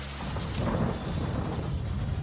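Heavy rain pours over a city street while thunder rumbles low and continuous beneath it, a dense, steady wash of sound with no voices.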